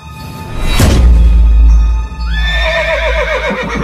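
A cartoon horse, struck by a thrown dagger, lets out a loud, close, sustained whinny with a rising, wavering tail, accompanied by a low rumbling thud.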